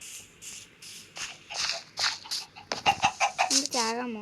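Minecraft chicken clucking in a game, a run of short repeated clucks and squawks mixed with other game sounds and a voice talking over them.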